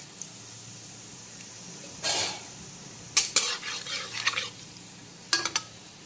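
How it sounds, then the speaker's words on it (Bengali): Nigella seeds tempering in hot oil in a pan, a faint low sizzle broken by several short bursts of crackling and utensil clinks, with no talking. "এখন তেলের মধ্যে দিয়ে দিচ্ছি কালো জিরে ফোড়ন"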